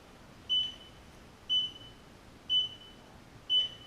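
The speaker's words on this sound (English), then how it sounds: "It beeps, turns on, press the play button." Four short, high electronic beeps from a walking pad switching on sound at steady one-second intervals, clear and close against a quiet background hum.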